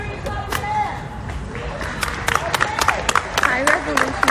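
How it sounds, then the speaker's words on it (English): A rally crowd claps their hands. The clapping is scattered at first and builds into a thick, busy patter of many hands, with a voice speaking over the start. "let me hear you clap your hands."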